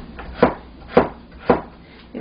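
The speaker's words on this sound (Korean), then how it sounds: "이렇게 그냥 편 썰어 주셔도 괜찮습니다." A knife slices carrot and onion on a cutting board in three evenly spaced, crisp chops up close, with the start of a fourth at the very end.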